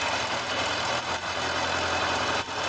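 A Kawasaki ZZR1100 motorcycle engine idles at about 1,250 rpm, a steady, close, continuous hum with a faint uneven pulse and no speech over it.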